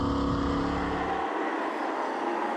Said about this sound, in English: can you hear that engine? That is a Harris motor for sure.